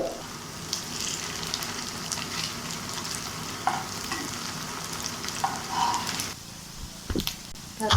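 Raw rice flour tea-time snack frying in a pan on a low flame, a steady close sizzle with soft stirring and scraping, a few brief clinks near the end, no talk.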